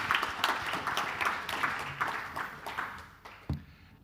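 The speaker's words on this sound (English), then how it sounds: "Let's give a warm round of applause for" Applause from a conference audience at an art and industry festival, a moderate patter of clapping that rises and fades over a few seconds, ending with a single sharper knock.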